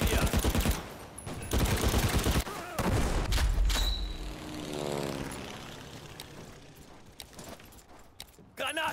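Gunfire in a video game: bursts of rapid automatic shots and heavy blasts, then a low rumbling explosion that fades, with a further cluster of shots near the end.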